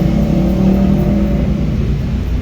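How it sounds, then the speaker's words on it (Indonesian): Daihatsu Zebra Espass 1.3 engine idling on LPG gas after running on petrol, a steady close, loud low rumble with an even hum and no breaks, with no speech over it. "Ini kondisi udah nyala pakai gas."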